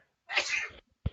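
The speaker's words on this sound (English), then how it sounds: "I was desperate not to sneeze into it." One close, sharp human sneeze bursts out on its own and is followed a moment later by a short low thump.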